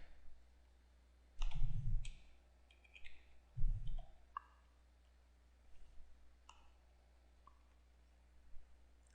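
Computer mouse clicks while saving a DVD production file, a handful of sharp isolated clicks spread irregularly, with two louder bumps of handling noise among them and no talking.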